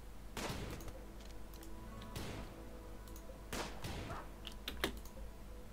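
Gunfire in the video game RimWorld, a scattered run of quick, crackling shots and bursts at low level, each short and sharp with gaps between, heard without speech.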